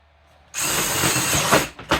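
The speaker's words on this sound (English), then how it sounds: "I have my 1/2 inch drill bit here. I'm just going to drill a hole here where I have it marked" A power drill fitted with a 1/2 inch bit bores a marked hole, starting abruptly with a loud, steady close whine that breaks into rougher bursts near the end.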